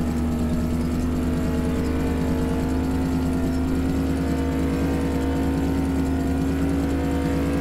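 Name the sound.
1969 Dodge Charger General Lee engine, Farming Simulator 2017 video game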